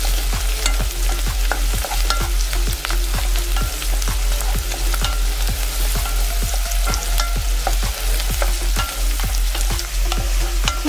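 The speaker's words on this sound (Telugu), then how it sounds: "ఇవి మంచి గోల్డెన్ బ్రౌన్ కలర్ వచ్చేంత వరకు మనం ఫ్రై చేసుకోవాలి." Finely chopped onions frying toward golden brown, a loud continuous sizzle with rapid, regular stirring scrapes and clacks of a spoon in the pan, close up, steady hum underneath, no voices.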